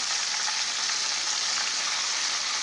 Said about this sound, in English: So now you hear the chicken sizzling.